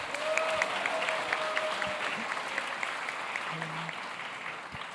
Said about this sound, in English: Could we please get another round of applause for Farhan and MLH?